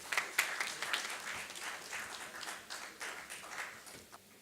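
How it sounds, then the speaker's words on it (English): A conference audience gives a round of applause at a report unveiling during a non-ferrous metals event, with dense, uneven clapping that peaks early and gradually thins out. "Please welcome them with a big round of applause."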